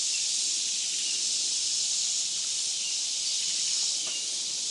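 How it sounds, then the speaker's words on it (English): Steady high-pitched cicada drone fills a campground site with a concrete patio, loud and unbroken throughout, with no talk. "And listen to the cicadas."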